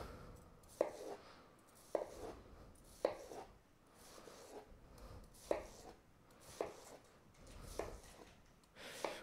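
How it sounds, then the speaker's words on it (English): Knife cutting food into triangles on a cutting board, a series of about eight quiet, evenly spaced chops, each a crisp click followed by a brief drag of the blade. "So we're going to cut in half one more time and then pull the knife through."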